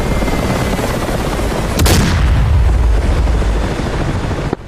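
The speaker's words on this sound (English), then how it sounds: "Knock it off, helicopters. You're shooting your own T-50s." Helicopter cannon fire in the DCS World combat flight simulator strikes friendly T-50 tanks, producing a loud, dense rumble of gunfire and a sharp impact burst that fades into a low roar.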